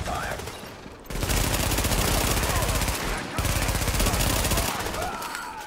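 Automatic gunfire in the video game The Division, long loud sustained bursts of rapid shots with a brief pause between two volleys.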